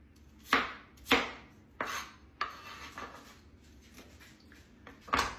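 An onion is sliced on a board in five or six separate knife strokes, each a crisp, close crunch followed by a short scrape, with brief pauses between.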